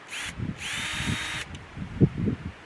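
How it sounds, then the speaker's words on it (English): A power drill whirs in two bursts, one short and one longer and steady, as it bores drainage holes through the bottom of a plastic potato-growing container, with some low handling knocks afterward. "You're going to drill these holes out."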